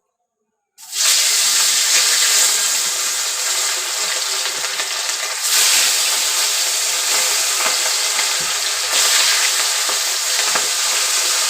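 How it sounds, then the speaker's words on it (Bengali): Hilsa fish pieces frying in hot oil in a pan: a loud, steady sizzle starts abruptly and hisses continuously close up, with small surges as the fish is added and moved. "আমি মাছগুলো একে একে ভেজে নেব।"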